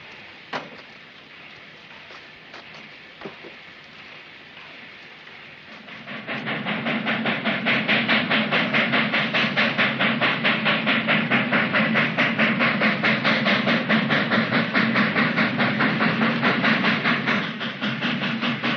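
A quiet start with a few clicks, then a train rumbles loudly past on the rails with steady rhythmic clatter and hiss that lasts to the end.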